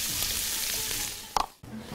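Ginger sizzling in hot oil in a pan as honey-glazed lamb ribs are prepared, a steady close frying hiss that fades near the end, broken by a short clatter.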